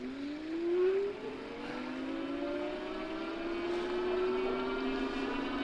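An electric 29-inch full-size DUOTTS e-bike's motor runs at full throttle while climbing uphill, giving a steady whine that slowly rises in pitch over several seconds, close and moderately loud with road and wind noise beneath.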